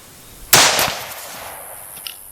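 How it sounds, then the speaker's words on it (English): A single loud, sharp rifle shot from a CZ-527 chambered in 7.62x39 is fired at a paint can outdoors, with a crisp crack and a brief decaying tail, followed by a faint small impact. "I'm going to try to shoot it at the top."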